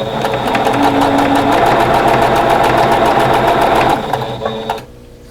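A sewing machine chain-piecing quilt fabric pieces for a quatrefoil block runs in a steady, loud, continuous whir with rapid needle rhythm for about four seconds, then slows and stops.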